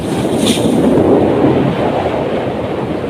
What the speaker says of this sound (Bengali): এক একটা ঢেউর উচ্চতা অনেক বেশি।